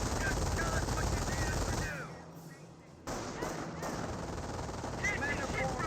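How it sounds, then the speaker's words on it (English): MG42 machine gun firing in Company of Heroes, sustained bursts of rapid automatic fire that break off briefly and then resume, mixed with other battle noise. "Now that the MG42 engaged in the rifleman."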